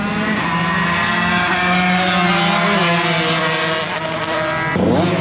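Two-stroke racing motorcycles in practice at a vintage track meet, loud buzzing high-revving engines with shifting whining pitch as bikes pass close by, continuous throughout with a sudden rev change near the end.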